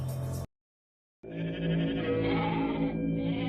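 Sheep in the Cyclops's cave bleat in a drawn-out, wavering cry that rises after a short silence. The calls are close and fairly loud, with layered voices overlapping.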